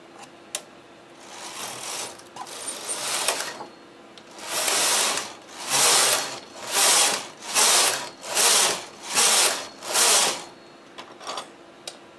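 A knitting machine carriage clatters as a small knitted project is worked off onto rows of waste yarn, with about six evenly spaced rhythmic mechanical runs after scattered clicks and handling noises, nearby and alone without talk.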